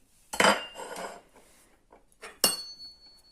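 A short rattling pour of sprouted rye seeds into a dish, two quick bursts with a brief pause between, close and fairly clear.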